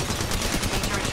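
Rapid automatic gunfire in the mobile game Apex Legends Mobile, a continuous rattling burst of closely spaced shots at steady loudness.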